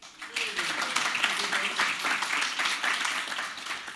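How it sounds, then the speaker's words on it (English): Applause from a live audience at a Fife College discussion event as a panelist from Fife is introduced, a dense steady patter of many hands clapping at moderate distance, filling the room throughout. "I thought you'd get a round of applause."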